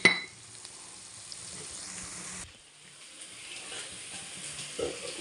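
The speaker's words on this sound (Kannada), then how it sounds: "ಫ್ರೈ ಆಗ್ತಾ ಇದೆಯಲ್ಲ" Ginger garlic paste frying in oil gives a faint, steady sizzle with a few soft clinks of utensils against the pan, quiet and close, with no talking.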